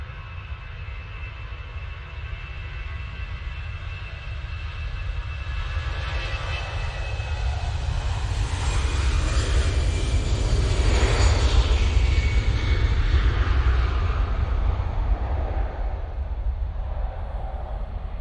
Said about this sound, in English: Right, here we go with the Finnair.